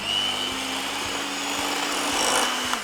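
An electric whisk whips double cream in a bowl, a steady motor whine with a rough, grinding rub and faint regular knocks against the bowl, loud and close with no talk.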